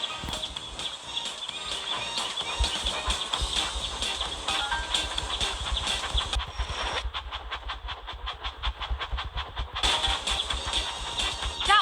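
Train engines in a children's train video game chug and clatter with a steady rhythmic pulse, loud and continuous, with a rapid clip-clop-like beat and brief tonal whistles over busy music.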